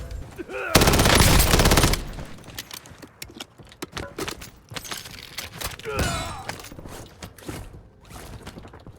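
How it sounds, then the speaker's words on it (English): Rapid automatic gunfire in a shooting video game: a loud, dense burst of shots lasts over a second, then a second shorter burst follows amid scattered clicks and mechanical reload sounds. "I'm shooting until I make it."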